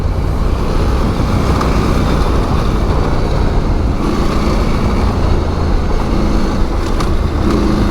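A Husqvarna Norden 901 motorcycle with WP Pro suspension rides a road on purpose over hard bumps, giving a loud, steady engine and road rumble with a few low thumps throughout.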